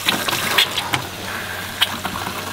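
Hot water runs from a tap in a camping trailer, a steady hissing splash with occasional faint clinks and drips, nearby and continuous with no voices.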